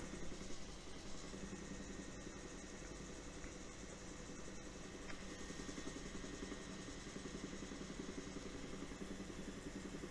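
A helicopter flying over Brittany gives a continuous rotor and engine drone from inside the cabin, a steady broadband rumble with a faint rhythmic beat and no voices.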